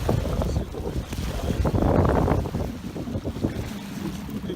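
Steady gusting wind roars across the microphone outdoors on open water with whitecaps, swelling in the middle and easing off, with no talk.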